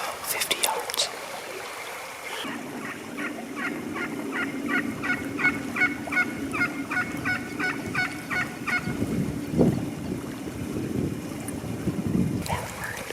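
Wild Merriam's turkeys in Colorado, hens and a gobbler, call outdoors: a run of rapid rhythmic yelps and clucks over wind, with a gobble and further calls later, mid-distance, while people talk quietly.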